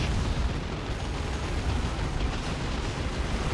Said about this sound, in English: is that a rocket? No, it's a creeping barrage